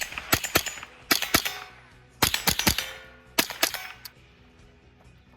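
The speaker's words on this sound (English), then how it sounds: "Let's go ahead and shoot this little 10-round mag that it comes with stock." A Ruger 10/22 semi-automatic .22 rifle fires a stock 10-round magazine in quick groups of two to four sharp cracks, separated by short pauses, loud and close.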